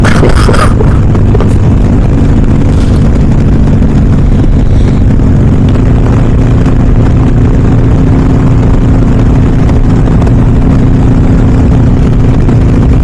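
A Harley-Davidson Iron 883 Sportster fitted with a Hammer 1250 big-bore kit cruises in fifth gear at about 3,500 RPM and 65 mph, giving a steady, loud engine drone mixed with heavy wind roar throughout.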